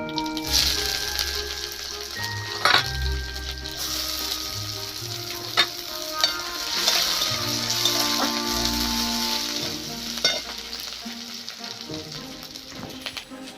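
Panch phoron and chopped onion sizzle steadily in hot oil for raw papaya, a continuous loud crackle broken by a few sharp clinks of a stirring spoon against the pan.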